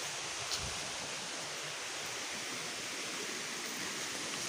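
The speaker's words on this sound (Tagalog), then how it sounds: "nandito kami sa sa ilog na malaki" A large river flowing steadily nearby, a continuous broadband rush of water with no voices, holding an even level throughout.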